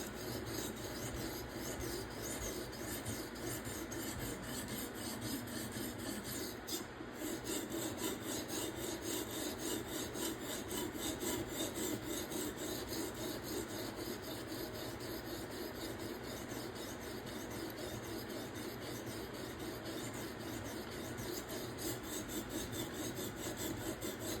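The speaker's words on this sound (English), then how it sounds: "I'll switch up then with the right to left and then back left to right. Just to switch that grit pattern, scratch pattern up on the bevel." A blade bevel is worked against an abrasive in alternating stroke directions, giving a continuous close gritty rasping and rubbing with a steady rhythm throughout and no talking.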